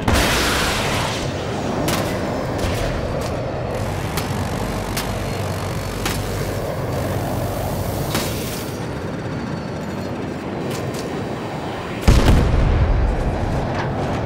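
Battlefield 2042 combat noise with scattered sharp shots, then a jet explodes in a sudden loud, deep boom near the end.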